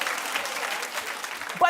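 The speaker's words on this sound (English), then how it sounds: "clap if that's you" An audience claps at a talk show, a soft continuous wash of applause, moderately distant, with a brief voice at the end.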